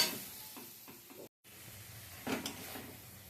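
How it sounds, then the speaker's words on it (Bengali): Spice paste sautéing in a pan for a Bengali katla fish curry with potato and broccoli, giving a soft steady sizzle with a few stirring scrapes and a brief gap midway, no voices. "মশলাটাকে আমি কষিয়ে নেব।"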